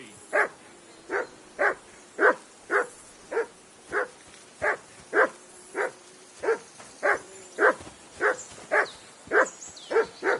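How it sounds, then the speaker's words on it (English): A dog barks steadily in the medieval video game Kingdom Come: Deliverance II, about seventeen evenly spaced, moderately distant woofs in a regular rhythm. "Whistle at that mutt of yours to stop barking."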